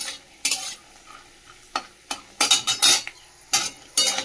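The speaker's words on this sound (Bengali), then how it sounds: "ওই তেলের মধ্যে এই যে একটু কালো জিরে, শুকনো লঙ্কা ফোড়নে দিলাম" Nigella seeds and dried chillies dropped into hot oil for tempering give close, sharp bursts of crackling and spitting that flare up irregularly between quieter moments.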